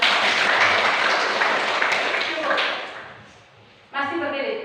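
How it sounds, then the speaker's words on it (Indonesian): Applause from a school group, a dense burst of clapping that fades out, then a short loud clap rhythm at the end. "Ini kembali tepuk tangan untuk teman-teman."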